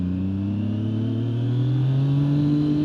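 A Triumph motorcycle engine runs at low RPM below 2500, a steady deep droning note that climbs slowly and stays loud and close throughout.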